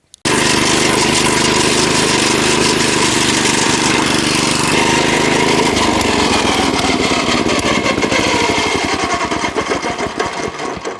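Mower attachment on a walk-behind tractor cutting grass, a loud, continuous close engine drone with a rough, buzzing cutting roar that stays steady before slowly easing off toward the end.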